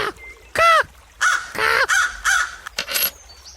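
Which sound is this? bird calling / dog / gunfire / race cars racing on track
bird calling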